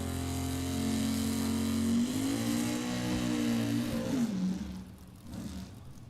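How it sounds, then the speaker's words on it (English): A drag racing car at a bracket race does a big burnout: a loud, sustained engine roar holds a high, steady pitch, rises slightly, then eases off and fades toward the end. "Big old burnout"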